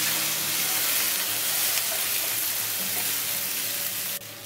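Chicken stock pours into a pan of sizzling tahini chicken, a steady close frying hiss running throughout and cut off abruptly near the end.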